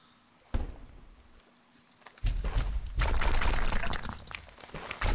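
Splashing and sloshing water as a character swims in a Minecraft game, quiet at first, then an abrupt burst of louder, continuous watery churning.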